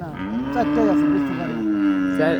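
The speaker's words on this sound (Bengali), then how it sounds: "কয়টা গরু নিয়ে আসছিলেন আজকে চারটা গরু নিয়ে আসছি" A cow at a cattle market gives one long, loud, close moo that holds its pitch with slight wavers for about two seconds, with a second call beginning at the very end; nobody speaks over it.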